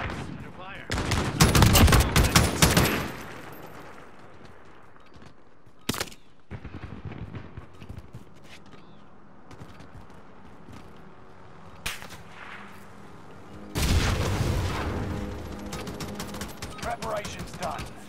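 Bursts of rapid gunfire and explosions from Call of Duty: Modern Warfare, with a heavy volley at the start, a few isolated sharp cracks in the middle and another loud sustained burst near the end, spread across a quieter stretch of ambient battle noise.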